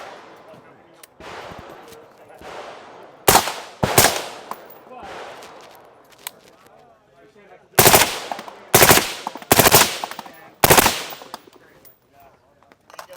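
Suppressed 11.5-inch 5.56 rifle with a Mod 1 suppressor firing at an outdoor range day, sharp muffled cracks in separated bursts of single and paired shots, loud and close, with quieter range noise between them.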